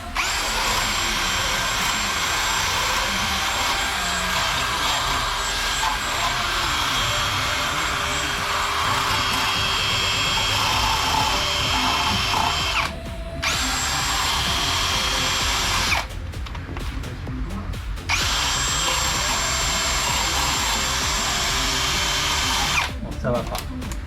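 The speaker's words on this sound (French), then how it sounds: "On va commencer avec un coup de brosse." Rotary brush spinning on engine parts of an LC1 FG44, a loud high-pitched whine that runs steadily and stops in several short breaks, with no talking over it.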